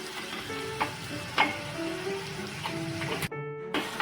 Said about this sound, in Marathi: थोडं आपल्याला जरा हे मसाले शिजून घ्यायचे